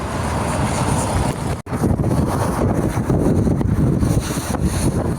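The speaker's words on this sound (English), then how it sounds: "it's really close to the road and a bus just passed." A loud, roaring rush of a bus going by very close on a roadside, blended with heavy wind buffeting the microphone, with no talking.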